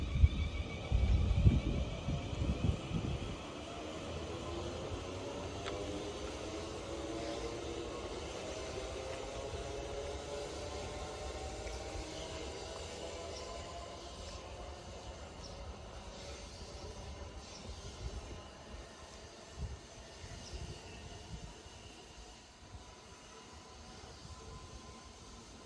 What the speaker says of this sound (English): Departing out now is the 12:15 South Western Railway service from Bournemouth to Winchester.